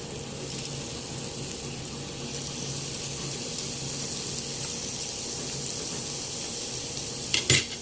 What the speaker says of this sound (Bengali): এখন আমি মাছটি ভেজে নেব।